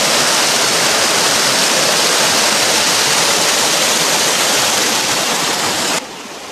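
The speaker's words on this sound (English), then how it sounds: "Soon, Manyari starts flowing again, as do other rivers." The Manyari river in Achanakmar, Chhattisgarh, flows in a loud, dense, unbroken rush of water that drops suddenly in level near the end.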